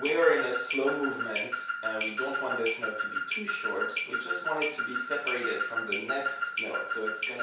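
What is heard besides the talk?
No everyday noises stand out.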